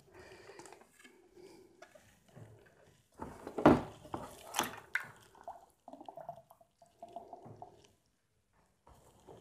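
A hydration bladder tube is rinsed in water, with splashing, dripping and liquid sloshing in uneven bursts close by, a louder gush partway through, and no talking.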